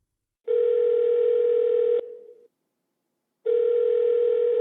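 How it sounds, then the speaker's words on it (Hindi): Steady telephone dial tone heard while placing a call, a loud continuous tone that stops, trails briefly, then returns after a short silence. "वह अपनी बड़ी बहन नागमणि को फोन करती है।"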